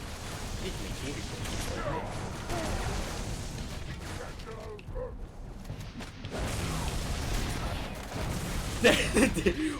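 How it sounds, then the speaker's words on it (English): Marksman and sniper rifle fire in a video game, a dense run of gunshots, pops and whooshes layered over continuous game noise, with a burst of louder reports near the end. "Marksman rifle, sniper rifle."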